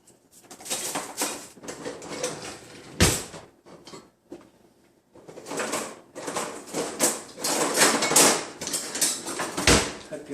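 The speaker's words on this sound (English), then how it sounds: "We'll start stirring here a little bit." Pickle brine being stirred in a pot, intermittent bursts of scraping and clattering that come in uneven clusters with quiet gaps between them, including a couple of sharper knocks.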